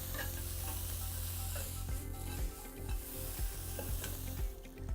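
Onions sizzle and fry in a wok, with a constant loud crackle and repeated scraping and tapping as they are pushed around the sloped sides, close by and without talk.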